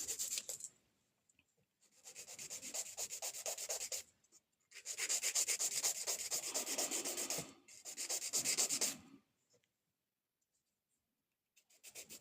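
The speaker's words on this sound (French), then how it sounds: "Alors, tu vas le faire avec une lime douce." Fingernail being filed with a soft nail file, close and quiet, in three sustained bouts of scratchy back-and-forth rubbing separated by short silent pauses.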